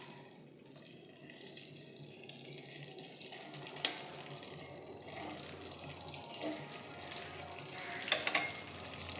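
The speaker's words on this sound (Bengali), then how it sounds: "একটুখানি ভাজা করছি, পটল ভাজা, কাকড়ি ভাজা" Pointed gourd, cucumber and eggplant slices frying in oil, a steady soft sizzle with occasional clinks and faint watery sounds, no talking.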